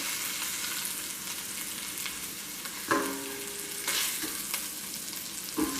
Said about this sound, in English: I'm going to use this pan here to saute